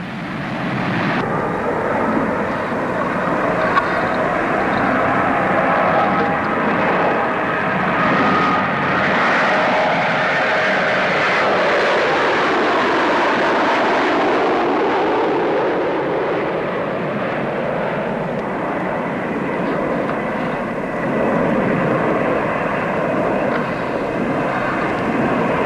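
Armstrong Siddeley Apollo airliner powered by Mamba turboprops flying past at an air show, a steady loud engine roar that swells and shifts in pitch as it passes, with no talking over it.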